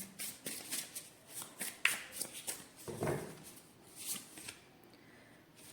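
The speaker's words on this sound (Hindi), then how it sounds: "अच्छा एक और कार्ड आपके लिए निकालते हैं।" Cards are shuffled and drawn by hand for a card reading, giving a series of close, soft riffling flutters and slaps in uneven bursts, with no voices.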